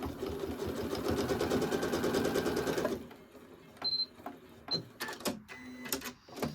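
A sewing machine stitches pocket pieces of a fabric tea wallet in a fast, even mechanical whir of rapid needle strokes for about three seconds, then stops, followed by scattered handling clicks and fabric rustles.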